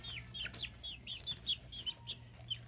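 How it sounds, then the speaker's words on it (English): Small chickens give a run of quick, high peeping clucks, close by and fairly quiet, with a low steady hum underneath. "I love little tiny veiny chickens like this."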